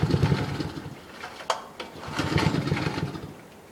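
A boat engine with its choke closed is being started, cranking and sputtering in uneven bursts with a brief sharp catch midway, close and moderately loud with no talking.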